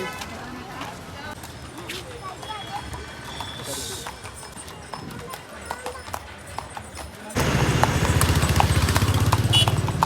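Rhythmic horse hoof clip-clops sound under people talking, followed by a sudden loud burst of rushing noise near the end.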